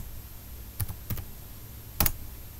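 A few separate keystrokes on a computer keyboard as a short numeric password is typed, with two quick pairs of taps and then a sharper cluster, close and quiet with nobody speaking.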